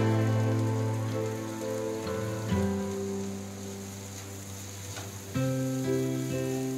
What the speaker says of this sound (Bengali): সেটাকেও একটু ভেজে নিচ্ছি।